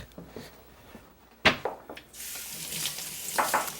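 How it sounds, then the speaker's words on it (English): Hands are rinsed under a running kitchen tap, a soft hiss of water that starts partway through after a few small knocks and clatters, with no talk. "I'm just going to rinse my hands"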